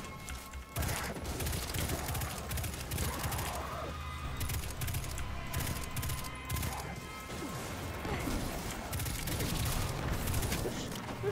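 Sustained gunfire in the sci-fi shooter Destiny 2, loud dense volleys of rapid shots and mechanical clatter layered with game effects, continuing without a break.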